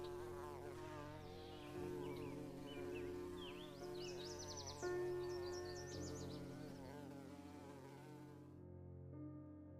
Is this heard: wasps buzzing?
yes